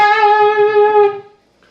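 A single sustained, distorted electric guitar note from a song rings loud and close, then decays and cuts off after about a second.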